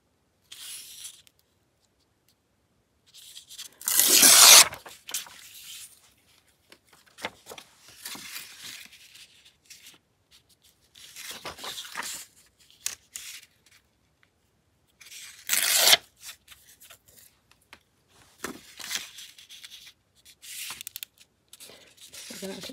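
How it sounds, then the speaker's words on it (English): Old paper envelope torn by hand in a few separate rips, the loudest a sharp, rasping burst near the start and another partway through, with softer rustling and handling of paper between them. The sound is close and quiet overall. "Tear a little off of here."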